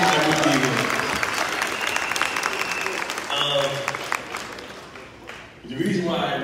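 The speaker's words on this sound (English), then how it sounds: "give yourself a round of applause" An audience at a day trading training event applauds loudly and steadily, with a voice speaking over the clapping as it thins out toward the end.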